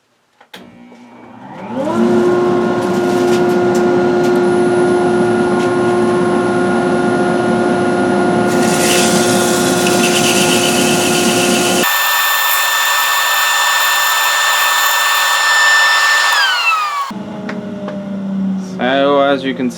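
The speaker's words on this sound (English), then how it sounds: "Turn on the dust collector, so it's going to get loud." A woodworking shop's dust collector spins up and runs with a loud, steady whine and roar that holds at full strength for many seconds. Pitch shifts partway through, and the noise winds down and stops near the end.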